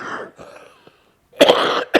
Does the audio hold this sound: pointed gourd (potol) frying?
no